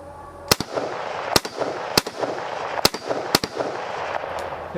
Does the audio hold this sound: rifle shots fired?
yes